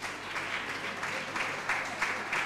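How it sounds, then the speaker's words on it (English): A church congregation at a Sunday morning service claps along in a steady rhythmic beat, a moderate-level wash of hands repeating about every half second. "Clap your hand for Jesus then"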